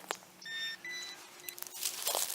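Metal detector beeping to signal a penny buried about 2 inches down, a few short, bright electronic tones close by, alone with no talking.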